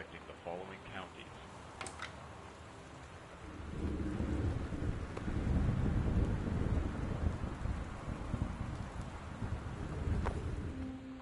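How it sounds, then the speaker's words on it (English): A video-game thunderstorm: a low rumble of thunder gives way to heavy, steady rain and wind that swell in loudness and fill the scene. "The Northwest Weather Service reports high winds and torrential rain conditions"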